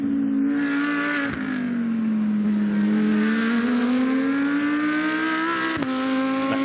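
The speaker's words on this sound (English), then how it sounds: "Ever so distinctive Audi engine note propels the R8 LMS GT2 up the other side of the chicane." An Audi R8 LMS GT2 race car's engine drones loud and steady up through a chicane during a GT2 European Series race at Paul Ricard, the pitch dipping and rising with brief sharp breaks as it shifts.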